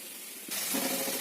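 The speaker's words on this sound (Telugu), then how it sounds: "చూడండి, వాటర్ బాగా మరిగిపోతున్నాయి." Water boiling hard in a pot on the stove for cooking sprouted moong and chickpeas: a soft hiss grows suddenly into a loud, steady, bubbling roar up close.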